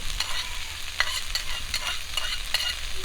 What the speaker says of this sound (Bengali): লবণ হলুদ দিয়ে শাকটাকে একটু ভাজবো শাক আর আলু একটুখানি ভেজে নিয়েছি